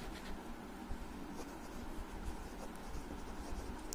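Chalk or marker scratches across a classroom board while working out a set problem, a quiet continuous scratchy stroking with small taps, heard alone.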